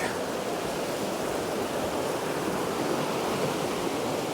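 The flooded River Waveney rushes fast through a gap by a gate, a loud, unbroken roar of churning water with some wind buffeting, no voices.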